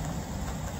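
Steady rain falling during a storm in Alabama, a dense, even hiss that holds at the same level throughout with no voices over it.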